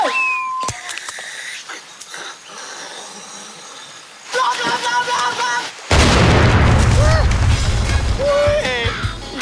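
A booming explosion sound effect in a Thai comedy scene, a sudden loud blast with sustained rumbling crash debris after scattered smaller knocks, with people shouting and talking around it.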